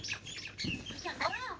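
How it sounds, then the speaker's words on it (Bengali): A common myna near its nest in a neem tree gives a few faint, harsh squawks and chirps in quick succession, heard at a distance. "আসমা ওর বাসার কাছে আসাতে দেখো শালিক কি কিরকম করতেছে"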